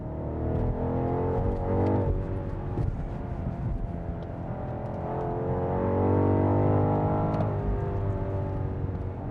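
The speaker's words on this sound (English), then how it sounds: "The engine sounds pretty good from inside the car" Inside the cabin of a 2023 BMW X6 M60i with a 48-volt system, the engine hums as a steady, fairly loud drone whose pitch climbs and falls with the revs as the car accelerates.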